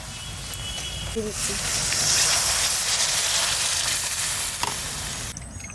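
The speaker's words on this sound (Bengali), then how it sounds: "এবারে এর মধ্যে আমি জল দিচ্ছি" Water splashed into a pot of deep-fried, crisp-browned onions for steamed biryani brings a sudden surge of loud, steady sizzling and hissing that holds for several seconds before easing off.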